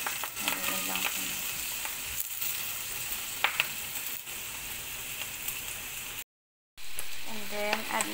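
Beef and chopped mushrooms frying in a pan, a steady close sizzle with stirring clatter throughout, someone speaking briefly over it, and a short dropout near the end.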